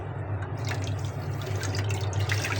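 Clean water poured into a bowl while washing poppy seeds, a steady close trickle and splash running without pause, with no talk.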